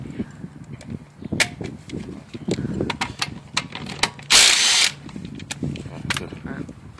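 A DeWalt DCD985 drill drives a bolt during a torque test, with bursts of ratcheting mechanical clatter and one loud, sharp, hissing surge near the end, while people talk close by.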